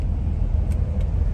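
A 1965 Chrysler 300L's engine runs steadily at idle, a deep, close low rumble that holds even throughout with no voices over it.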